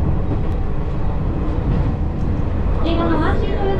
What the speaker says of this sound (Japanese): そして列車はまもなくトンネル内を走行していきます。